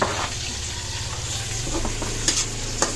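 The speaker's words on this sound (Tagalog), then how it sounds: "Tayo po magigisa na po ng ating rekado, sibuyas at bawang." Onion and garlic sauté in a pan over a steady, close sizzle, with stirring scrapes and a few clinks of a utensil near the end and no talking.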